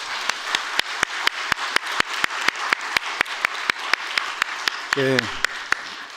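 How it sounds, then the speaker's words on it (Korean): A church congregation claps during an ordination service, with crisp, evenly spaced beats over a soft wash of hands and a brief spoken word near the end. "우리 박수로 환영할까요?"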